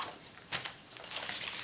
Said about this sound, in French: je regarde si j'ai du papier noir